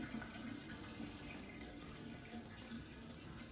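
Evian mineral water runs steadily into a container at a spring fountain, a continuous even splashing and gurgling stream, close and moderately loud throughout with no talk.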